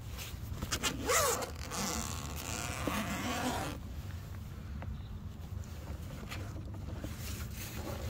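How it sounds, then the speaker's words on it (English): A zipper being pulled open on the carry bag of an EcoFlow 110W folding solar panel, a close, raspy zip that rises in pitch, followed by rustling of the bag outdoors with some wind noise. "Let's go ahead and zip this open."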